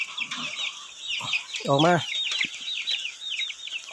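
Lad Dang native Thai chickens and roosters cluck in a steady stream of short calls outdoors, with one louder nearby squawk partway through, and someone briefly speaks over the flock.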